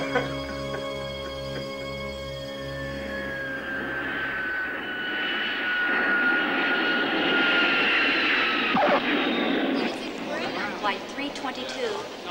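A jet airliner engine whines and rises in pitch at an airport, a steady roar building for several seconds before a sudden shift, with voices talking over it.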